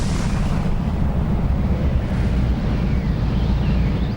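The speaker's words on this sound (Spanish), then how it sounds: "La explosión de la supernova" A supernova explosion rendered as a sound effect, a loud, sustained deep roaring rumble with a broad rushing texture that holds steady throughout.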